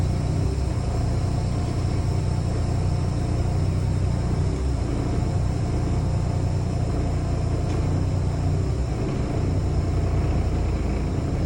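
A truck engine, heard from inside the cab, rumbles steadily as the clutch is eased out into first gear, a loud, even drone that stays unchanged throughout with no talking.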